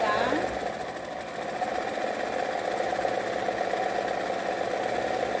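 A sewing machine runs a steady hum and whir as it stitches along the edge of a 3D fabric macaw craft, close and fairly quiet, with a voice speaking softly over it.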